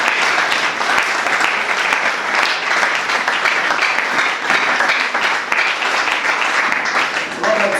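A church congregation bursts into sustained applause, a dense, loud wash of many hands clapping steadily throughout, with voices mixed in under the clapping.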